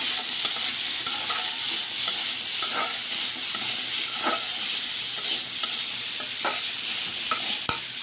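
Tengra fish frying in a pan with freshly cut vegetables tossed in, giving a steady broadband sizzle throughout. Occasional soft scrapes and stirring clicks from a spatula sound close by, with no voices.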